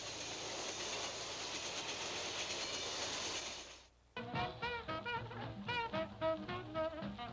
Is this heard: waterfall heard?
no